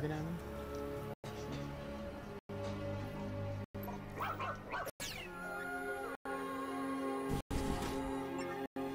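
A robot dog in the video game ReCore gives a run of short electronic barks and yips over steady game music, spread across several seconds.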